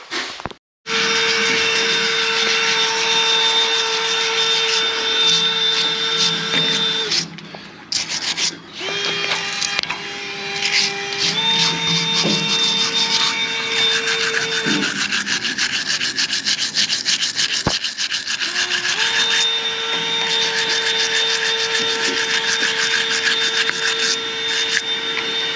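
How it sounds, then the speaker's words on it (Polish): Wall filler being sanded down with a whining power sander, a loud continuous high drone that changes pitch as pressure shifts, with brief pauses and scraping rubs, no talk. "trzeba jeszcze podocierać tą filę, która tutaj była wszędzie robiona"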